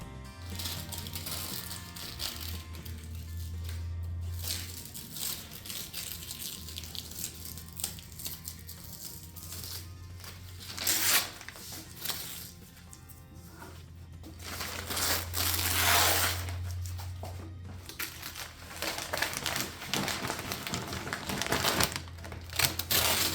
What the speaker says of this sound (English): Once I removed the paper